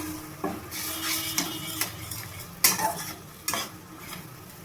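Spice paste for an egg curry frying in a pan while a spatula stirs and scrapes it, with sharp scraping strokes over a soft sizzle, close and without speech.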